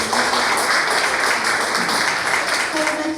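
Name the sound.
audience applause welcoming the musicians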